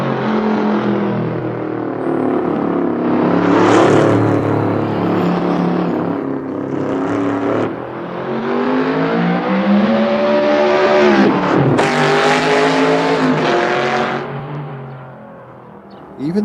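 An all-wheel-drive car drives and accelerates up close, its engine revving loudly through rising and falling gear pulls, with a sharp dip and shift around the middle before climbing again and easing off at the end.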